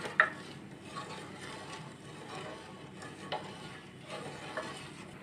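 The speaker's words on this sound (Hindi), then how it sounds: "चम्मच चलाते हुए पकाएंगे" Sugar syrup cooking in a pan while a spoon stirs it, a faint steady bubbling simmer with soft occasional scrapes and light clinks of the spoon, quiet and close, no voices.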